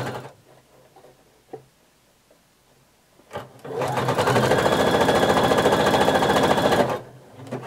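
Running a very wide zigzag stitch, a sewing machine attaches elastic to swimsuit fabric edges, whirring in one steady, rapid three-second burst up close after some quiet handling noises.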